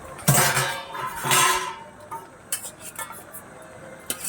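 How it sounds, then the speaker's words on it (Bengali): Shrimp and Malabar spinach being stirred in a pan, with two broad swishes of scraping and sizzle, then softer utensil clinks and taps against the pan. "এবার এটাকে ভালো করে নাড়তে হবে।"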